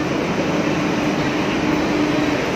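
Steady rumble and hum of a train standing at its terminus station at Plaza Catalunya in Barcelona, a continuous broadband noise with a faint tonal whine, loud and even throughout with no voices.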